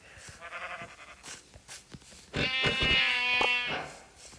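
Minecraft sheep bleat repeatedly, one wavering bleat early and a louder, drawn-out bleat later, close and clear with nothing else over it.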